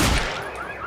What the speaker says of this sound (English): Suppressor fire!